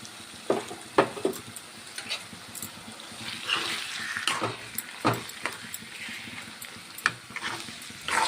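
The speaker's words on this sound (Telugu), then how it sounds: "ఇలాగా ఒక 5 నిమిషాలు ఆయిల్లో మగ్గనిద్దామండి చికెన్ని." Half a kilo of chicken, cleaned with turmeric and salt, sizzling in hot oil in a pan for an egg chicken curry; a steady close fry with sharp spoon-and-pan clinks and stirring scrapes scattered throughout.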